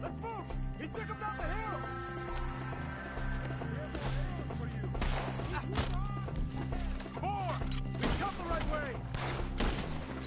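Repeated gunfire crackles through a Red Dead Redemption 2 shootout, with sharp bursts and volleys over a steady musical bed while characters shout in the background.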